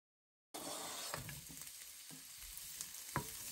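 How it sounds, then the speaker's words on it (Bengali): Red bell pepper sautéing for a Thai red curry in a pan with aromatics, a steady close sizzle with occasional stirring scrapes and one sharper clack near the end. "রেড পেপারকেও এখন আমি সটে করে নিচ্ছি।"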